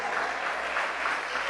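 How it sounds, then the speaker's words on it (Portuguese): A church congregation applauding during a sermon, a brief, dense, steady wash of many hands clapping at moderate volume, heard from within the room. "Pode aplaudir o Senhor."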